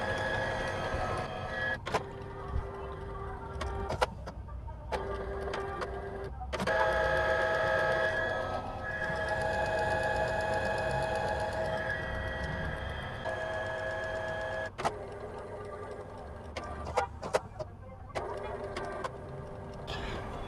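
Canon Pixma G2020 printer churning through an ink cycle: a steady, continuous mechanical whir and hum with tonal motor lines, broken by a few brief clicks and dips, running alone without talk.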